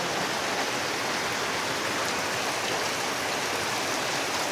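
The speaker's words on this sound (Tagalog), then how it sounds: "Kay uwan." Steady heavy rain pouring down in a continuous dense hiss, loud and close, with no voices over it.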